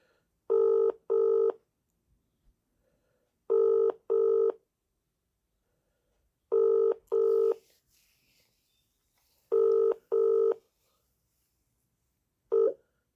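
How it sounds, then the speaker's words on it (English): A Vodafone mobile phone ringing tone, five evenly spaced double buzzes about three seconds apart, heard over the line, the last one cut short before voicemail. "ringing up Christopher Browell"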